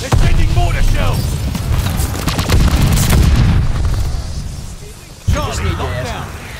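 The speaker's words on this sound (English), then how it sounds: "They're sending mortar shells." Mortar shells land in Call of Duty Vanguard multiplayer, a run of loud booming blasts and rumbling impacts with scattered gunfire crackle, one sharp explosion standing out near the end.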